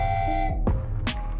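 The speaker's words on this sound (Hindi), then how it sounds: "तभी वहाँ वो भूतिया ट्रेन एक हॉर्न के साथ आ रही होती है" A ghost train in an animated horror story sounds a sustained horn, a steady multi-toned blare that fades out, overlapped by two sharp whooshing swells, with a low rumble underneath.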